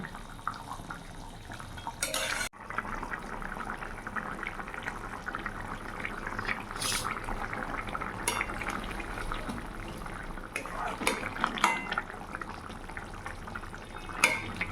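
Katla fish curry with ridge gourd and potato bubbling in a pot, a steady close simmering bubble with a few scrapes and clinks, no talk.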